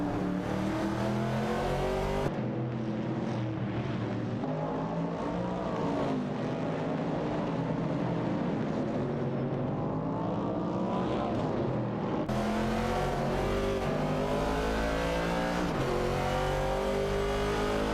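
Race cars including a Ford Mustang Boss engine roaring in an AI racing video game, a dense steady drone with rising and falling revs from several cars at once, loud and continuous throughout.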